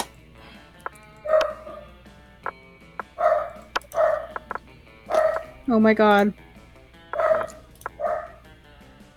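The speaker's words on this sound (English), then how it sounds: "The dog." A dog barks in short, loud bursts scattered through the clip, with a drawn-out yelping whine in the middle, heard over people talking and laughing during a casual game session.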